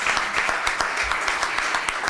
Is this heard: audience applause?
yes